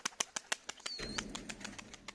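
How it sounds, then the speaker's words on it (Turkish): A pigeon tossed into the air, its wings beating in a quick run of sharp, close flaps, then a short whistling sweep and a softer flutter as it flies off against a low rumbling background. "Bir kuş attı havaya."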